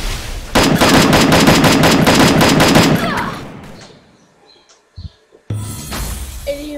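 Gunfire in a video game: a rapid burst of automatic shots fires for about two and a half seconds, close and loud, then fades to near silence. A few sharp isolated effects follow.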